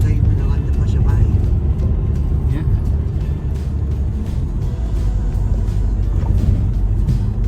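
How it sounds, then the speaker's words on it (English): A car engine pulls steadily as it accelerates through Castlemilk streets, a loud, low rumble from inside the cabin that continues throughout while people talk over it. "She's got her foot in the accelerator."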